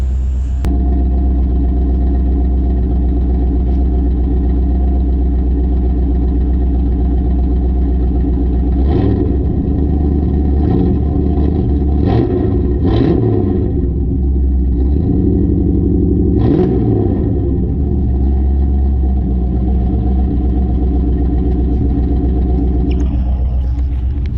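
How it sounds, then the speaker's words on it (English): A C4 Corvette engine, just fitted with a new fuel pump after sitting about six months, idles with a steady, close, loud low rumble, then revs in a few quick bursts midway and once more later before settling back to idle; no voices. "Let it run for a minute, I'll give it a rev."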